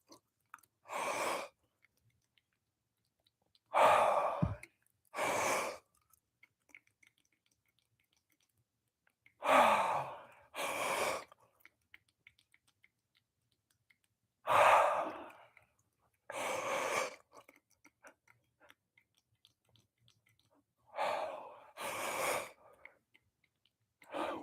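Big yawns during a slow stretching session, several long breathy exhales spaced a few seconds apart with quiet pauses between, close and soft.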